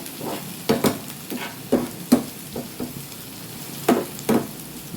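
Onions frying in a pan while cooking a Bengali clam dish, a steady sizzle broken by repeated spatula scrapes and knocks against the pan at an uneven rhythm, close and clear with no talking.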